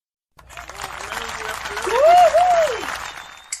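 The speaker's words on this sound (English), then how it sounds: "Please give a massive round of applause for Poetic Soul Queen" Crowd at an open mic poetry launch event applauds a performer, clapping swelling from a sudden start to a loud peak with a few cheers and whoops rising above it.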